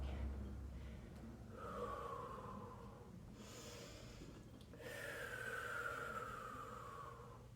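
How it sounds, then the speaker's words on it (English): Heavy, audible breaths from someone mid-workout during a booty-focused exercise session, drawn-out inhales and exhales heard close over a faint steady background hum. "We are breathing."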